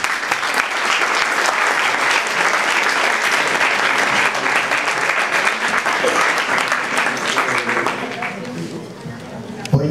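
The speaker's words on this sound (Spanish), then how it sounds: "pido un aplauso para el conferenciante" An audience applauds a lecturer at a talk, a dense, steady clapping that holds loud and close for several seconds before thinning out near the end.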